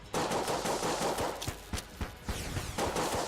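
M1911 pistol fire in a video game, a fast string of loud snapping shots mixed with busy game noise and impacts, continuous for a few seconds.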